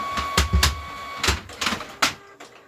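A very noisy home printer runs through pages with a series of loud mechanical clunks and feed thumps at irregular intervals, heard close by with no talk.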